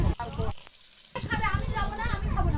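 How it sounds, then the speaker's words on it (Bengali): Eggs fry lightly in hot oil in a home kitchen wok, giving a steady close sizzle broken by a brief near-silent gap, with faint stirring and a little background voice. "তেলটা গরম হয়ে যেতে ডিমগুলো ডিমটা একটু হালকা করে, বেশি ভাজবো না, হালকা একটু ভেজে নিই"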